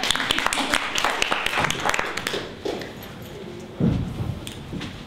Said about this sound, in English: give them a round of applause, even though they've done nothing yet